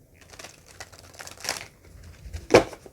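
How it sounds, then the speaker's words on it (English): Tarot cards being shuffled up close, soft papery rustles and crinkles building to a sharp louder slap near the end, with no voices. "I shuffled till I'm ready."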